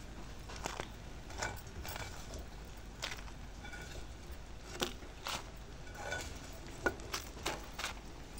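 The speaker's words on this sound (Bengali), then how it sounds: "এখন দ্বিতীয় ব্যাচের বেগুনগুলো ভেজে নিচ্ছি।" Brinjal slices fry in a little oil in a frying pan as a second batch goes in, a soft, low crackling sizzle with scattered faint pops and small clinks.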